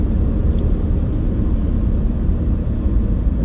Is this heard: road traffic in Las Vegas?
yes